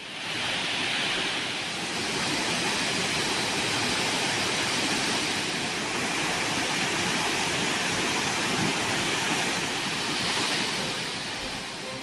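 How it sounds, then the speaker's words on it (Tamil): Hogenakkal waterfalls pour in flood after heavy rain, making a loud, continuous roar of rushing water that stays steady throughout with no voices. "இதனால் ஒகேனக்கலில் அனைத்து அருவிகளிலும் தண்ணீர் ஆர்ப்பரித்துக் கொட்டுகிறது."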